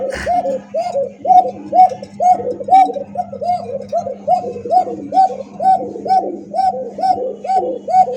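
Pigeons from a Lahori, Bombay, satin or racer pigeon sale keep up a steady, rhythmic cooing, one coo roughly every half second for the whole stretch, close and clear over a constant low hum.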